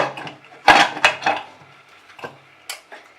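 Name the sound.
aluminium cake bowl set into salt inside pressure cooker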